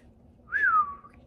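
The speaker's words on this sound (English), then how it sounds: "I don't know why I'm whistling a lot today." One person whistles a single brief note that rises slightly and then slides downward, heard alone and fairly close.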